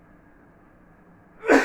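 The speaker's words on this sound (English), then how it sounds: "let me sneeze" One loud, close sneeze bursts out at the very end after a quiet stretch, set off by chilli caught in the nose while cooking pasta.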